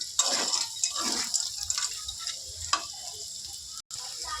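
Pasta frying with mixed vegetables in a pan, a bright continuous sizzle punctuated by several stirring scrapes and clacks of a utensil, close by and without speech.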